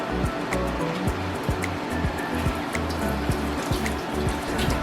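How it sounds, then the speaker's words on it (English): A pot of water heats toward a boil for cooking rice, giving a steady dense bubbling and rumbling roar with rhythmic low pulses and no talk. "We're just gonna let the water boil before adding the soaked rice."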